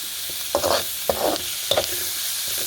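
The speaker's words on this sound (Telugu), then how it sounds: "ఇలా వేసుకుని ఫ్రై చేసుకోవాలి ఇప్పుడు కొంచెం హైలో పెట్టుకొని" Spices frying in hot oil in a kadai for Arabic machboos make a constant close sizzle, with three stirring scrapes breaking through at regular intervals and no talking.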